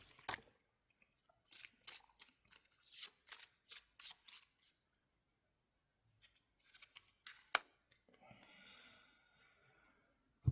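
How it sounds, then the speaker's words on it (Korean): A tarot advice card is shuffled and drawn by hand: a quick run of crisp, papery flicks and snaps, then a pause, a few more card rustles, and a soft sustained hiss at the end. Close and fairly quiet, with no talking. "조언 카드 한 장 뽑고 리딩 마무리하도록 하겠습니다"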